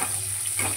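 Onion goes into hot oil in a home kitchen pan, setting off a brief, close, steady sizzle with a soft hiss and no talking.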